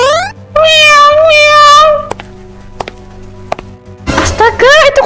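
A cat meows twice in loud, drawn-out cries close by, followed by a few sharp knocks and taps, then another rising meow at the end.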